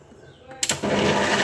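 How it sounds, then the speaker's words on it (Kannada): A kitchen mixer grinder is switched on to blend boiled tamarind and greens for a leafy-green huli curry. A quiet moment gives way to a sudden loud, steady whirring roar that runs to the end. "ಮಿಕ್ಸಿ ಆನ್ ಮಾಡು."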